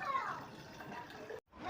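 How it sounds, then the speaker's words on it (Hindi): Tap water runs into a bottle in a home kitchen, a steady close rushing splash that cuts off briefly near the end and then resumes. "बस यहाँ पे मैं बॉटल में पानी भर करके रख रही हूँ दोनों के लिए।"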